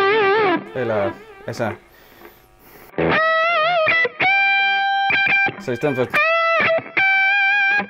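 Electric guitar with effects and distortion playing sustained notes with small string bends and finger vibrato, in loud phrases after a stretch of Danish talk at the start.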